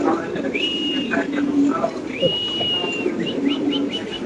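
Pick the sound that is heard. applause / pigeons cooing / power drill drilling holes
pigeons cooing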